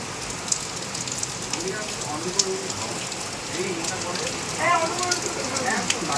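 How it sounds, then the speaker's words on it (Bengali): Dense monsoon downpour pours down in a constant roar, with faint voices murmuring beneath it and a few louder drips. "দেখো কি সুন্দর মুসুলধারায় বৃষ্টি হচ্ছে"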